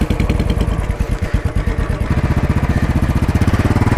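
A motorcycle engine runs close by with a rapid, pulsing throb that steadies into an even, regular idle beat, loud and without talking.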